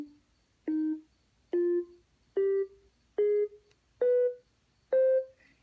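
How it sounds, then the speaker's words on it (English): A minor scale starting on C climbs in seven separate notes, one about every 0.8 seconds. Each tone is short and clean, with brief silence between notes, at a moderate, close level. "The minor scale is another one we'll listen to a lot, and it should sound a little sad or serious or scary."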